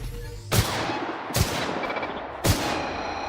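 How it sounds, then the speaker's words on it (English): Three loud pistol shots from The Outer Worlds, fired about a second apart, each a sharp crack with a short ringing tail over a steady game background. "I tried to shoot into the vulnerable spot."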